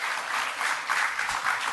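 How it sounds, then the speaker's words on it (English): Audience clapping at a public city meeting, a dense steady wash of many hands filling the room at close range, with a faint voice barely breaking through. "If you continue with the clapping,"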